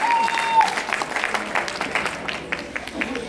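Steady crowd applause at a wedding reception fills the space, dense clapping with some voices mixed in, fairly loud and sustained throughout.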